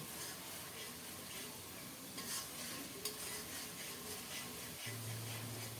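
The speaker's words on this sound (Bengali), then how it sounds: "নেড়ে চেড়ে খুব সুন্দর করে কষিয়ে নেব অনেকক্ষণ পর্যন্ত দাঁড়িয়ে থেকে মশলাটাকে খুব সুন্দর মতো কষিয়ে নিচ্ছি" Spice masala is stirred and sautéed in a pan for a rohu fish curry, giving a low steady frying hiss with small scraping touches and a brief hum near the end.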